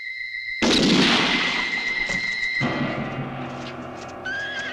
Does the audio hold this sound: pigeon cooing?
no